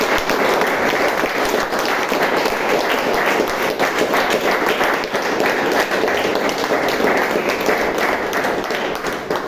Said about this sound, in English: And now give a big round of applause.